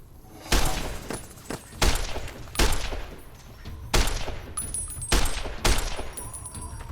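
Fallout New Vegas gunfire in a firefight against Jackal gang raiders: about seven loud, sharp shots spaced roughly a second apart, each with a booming tail, heard alone without talk.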